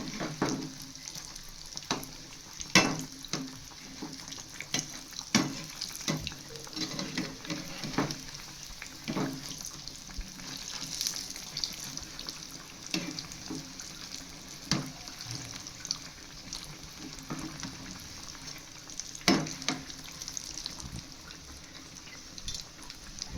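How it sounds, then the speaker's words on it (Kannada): Sweet potato bondas frying in oil, a steady bubbling hiss punctuated by frequent sharp clicks and scrapes from turning them, fairly close. "ಇದು ಚೆನ್ನಾಗಿ ಗೋಲ್ಡ್ ಕಲರ್ ಆಗೋವರೆಗೂ ಎಣ್ಣೆಲ್ಲಿ ಫ್ರೈ ಮಾಡಬೇಕು"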